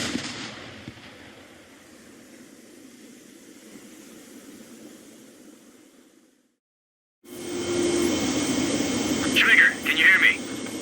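Jet engine roar in Ace Combat 7 during an aircraft carrier landing: a steady loud rumble cuts to silence, then returns harsher with bright whistling tones, under a talking voice.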